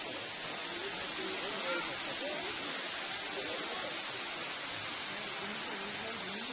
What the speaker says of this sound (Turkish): Şelaleye yaklaştık.